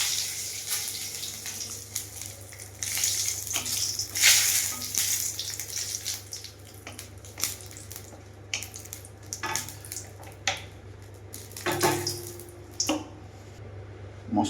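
Whole spices (panch phoron, bay leaf and dried chili) crackle and sizzle in hot oil in a wok while aloo fulkopi rasa is cooked, a steady close frying hiss with sharp pops and spits scattered throughout, no talking.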